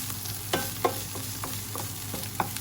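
Chili curry paste stir-fried in a hot pan, a steady close sizzle broken by several sharp scraping strokes of a spatula against the metal, with no one speaking.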